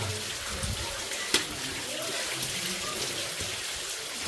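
Water runs steadily through a dark tunnel inside the Shree Pancha Mahalaxmi temple in Banepa, a close, constant rushing trickle with one brief knock partway through.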